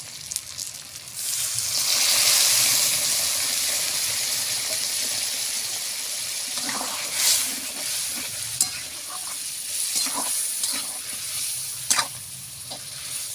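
Water pours and gushes into a pot of simmering mango achari chicken curry, a bright, rushing burst that settles into softer bubbling and a few clinks of stirring, close by with no talk.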